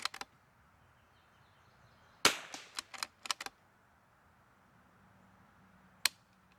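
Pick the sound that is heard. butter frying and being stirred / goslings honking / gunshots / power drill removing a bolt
gunshots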